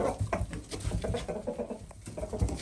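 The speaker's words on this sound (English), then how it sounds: "It's a chicken frenzy." Hens crowd and peck in a frenzy over a dropped egg in a farmyard, with busy close-up clucking, scuffling and pattering feet running steadily throughout.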